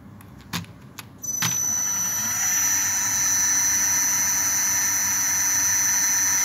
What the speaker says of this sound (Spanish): Le pongo las revoluciones bastante bajas porque es una fresa y no una mecha.